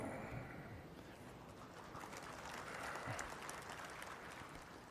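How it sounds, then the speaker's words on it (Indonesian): Audience at a speech by Indonesia's President Prabowo applauds in a continuous dense wash of clapping, fairly faint and distant, steady throughout without talk. "Jangan terlalu sering tepuk tangan."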